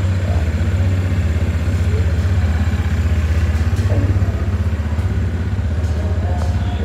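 A motorcycle engine idles steadily during a registration inspection, a loud, close, even low putter with fine rhythmic pulsing and faint clatter throughout, with no pauses.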